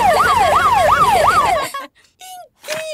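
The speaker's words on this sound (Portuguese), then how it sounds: "Papai, podemos tocar a sirene?" A Peppa Pig cartoon police car siren wails loudly in a steady rising-and-falling pattern, then cuts off into a few short, separate whooping blips.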